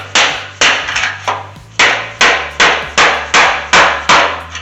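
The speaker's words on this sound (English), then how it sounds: "It's just a lock ring. And you just take a hammer, a screwdriver," A hammer drives a screwdriver against the fuel tank lock ring of a GMC Jimmy K5, giving about nine sharp, evenly spaced metallic taps, close and loud.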